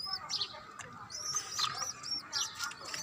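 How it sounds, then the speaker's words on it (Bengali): Pigeon chicks on a rooftop garden give several short, high chirps and peeps in quick bursts across the clip, faint and fairly close, with no talking. "এদিকে কবুতরের বাচ্চা"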